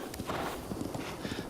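Horse hooves clip-clop in the Zelda video game, a quick run of soft, irregular thuds at moderate distance under quiet game ambience.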